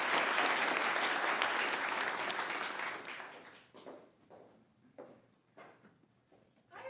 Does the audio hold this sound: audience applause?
yes